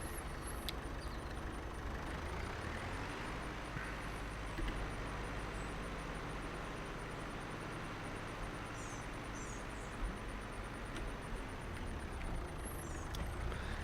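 Tractor engine in the video game Farming Simulator 22, a low steady idling drone held throughout at modest level, with faint intermittent higher mechanical chirps, no speech.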